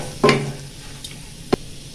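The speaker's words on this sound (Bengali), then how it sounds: "মশলার সাথে ভালোভাবে চিকেন কিমাটা মিশিয়ে নেব।" Chicken mince stirred with spices in hot oil: two distinct utensil scrapes and knocks against the pan, the first louder, over a soft continuous sizzle, with no one talking.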